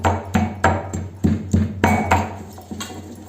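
Garlic and red chili are pounded for a rustic chutney in a series of loud, close, sharp thuds, about ten evenly spaced blows with short ringing decays, with no talking.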